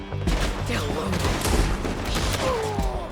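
Dense gunfire during a town shootout in the video game Red Dead Redemption 2, with overlapping shots and booms in a continuous loud barrage, mixed with game noise and shouting voices.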